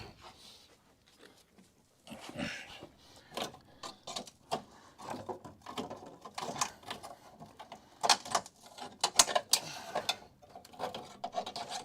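Snips bite through the sheet-metal floor of a Dodge Charger crew cab project car in a series of close, irregular scraping and crunching cuts, quiet overall with uneven bursts.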